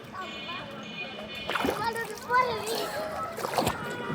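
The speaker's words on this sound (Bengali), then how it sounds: "একটা ডুব দেই।" Water splashes in a pond as someone dives in, a few sloshing bursts heard close up, with a voice talking over them.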